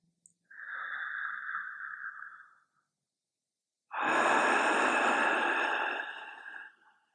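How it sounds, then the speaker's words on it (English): Two deep breaths during a somatic yoga slow flow: a softer inhale is followed by a pause, then a long, loud, breathy exhale lasting about three seconds. The breathing is close and stands alone, with no talk over it. "Let's take another cleansing breath."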